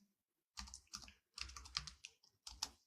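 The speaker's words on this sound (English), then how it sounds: "I'm just typing over here, just a second." Typing on a computer keyboard in short bursts of clicking keystrokes, close and fairly quiet, with pauses between the runs and no voices.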